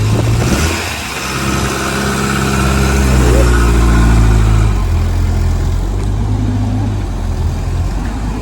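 A Bedford Chevette van engine runs with choke on, a loud close mechanical drone that rises in a brief rev before settling to a steady idle, with a voice talking over it.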